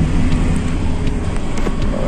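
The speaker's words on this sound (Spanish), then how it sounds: "ven otro carro" A car drives past on a road, a steady broadband rumble of engine and tyre noise holding close and loud through the whole moment, with no voices.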